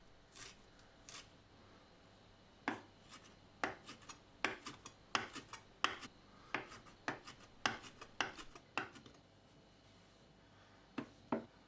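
Chopped parsley, minced garlic and lemon zest for gremolata being mixed by hand, heard as a run of quick irregular scraping and rubbing strokes, close and fairly quiet, with no one speaking.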